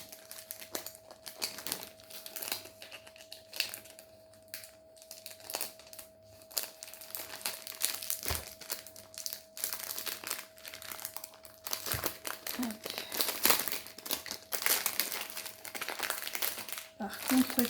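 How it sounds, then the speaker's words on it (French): Plastic packaging from an Action haul of diamond painting supplies crinkles and crackles in irregular close bursts throughout, while someone speaks French over it. "donc il y a l'emballage plastique"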